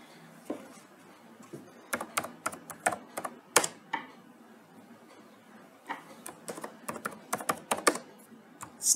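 A computer keyboard types Java code in the NetBeans IDE for a JSF-EJB-JPA CRUD application. Close, crisp keystrokes come in quick bursts with a pause midway, and there is no talking.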